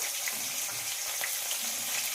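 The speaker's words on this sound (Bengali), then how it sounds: "প্রথমে আমি মাছের মাথা দুটো ভেজে নিচ্ছি।" Two fish heads fry in hot oil, giving a continuous, moderately quiet sizzle with faint crackles and no voices.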